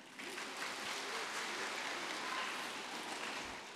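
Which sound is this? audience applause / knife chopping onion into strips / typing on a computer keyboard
audience applause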